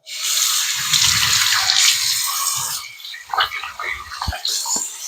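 Tap water runs steadily into a bathroom sink during a morning face wash, a close, continuous hiss with a few faint splashes and drips toward the end.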